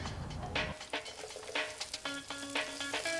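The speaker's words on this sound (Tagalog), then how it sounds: "Igigisa muna ang sibuyas, bawang, ground pork at isdang hinimay." Onion, garlic, ground pork and flaked tilapia sautéing in a pan, with a steady sizzle broken by scraping stirs and a few clinks of a utensil, close and fairly loud.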